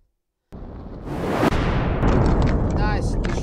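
A loud, sustained explosion rumble destroying the Earth in a realistic Undertale-style animation bursts in after brief silence, a roaring blast with a sharp crack midway and continuing heavy roar to the end.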